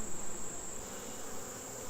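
Honeybees buzz inside a thriving hive during an inspection of brood frames, a dense, steady, close drone with a faint high whine and no talk.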